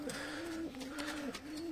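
Breeding pigeons in a loft coo close by in a continuous low, wavering call with a couple of short dips.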